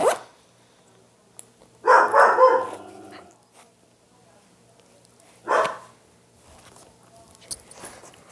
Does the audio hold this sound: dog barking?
yes